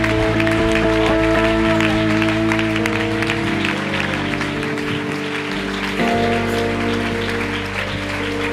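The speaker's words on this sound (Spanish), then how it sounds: "Dele un aplauso a Jesús." A church congregation at a convention bursts into sustained applause, dense clapping from a large crowd filling the room, with some voices mixed in.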